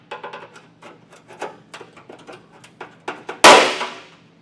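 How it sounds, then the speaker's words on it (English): Prying on a 2017 Ford Explorer bumper to free a pinch weld: a series of short creaks and rubbing scrapes, close up, ending in one sharp loud pop as the part snaps free. "what we should be able to do is just kind of pry on the bumper"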